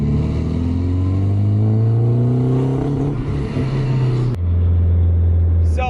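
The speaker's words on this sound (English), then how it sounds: "So consensus, it's just breaking up all throughout the rev range." A Nissan S14 engine revs with a misfire, breaking up throughout the rev range: a loud, close, uneven exhaust drone rises and falls, then drops abruptly to a lower steady rumble.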